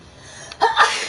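A single close, loud human sneeze, a short breathy intake followed by a sharp burst that fades quickly.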